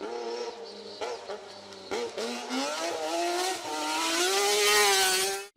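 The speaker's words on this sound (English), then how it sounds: "But I think what's special is that Ferrari V6 in the back that makes such a racket." A Lancia Stratos rally car with its mid-mounted Ferrari V6 howls as it accelerates, the raspy engine note climbing through the gears with brief lifts between shifts, rising to a loud, screaming peak before cutting off.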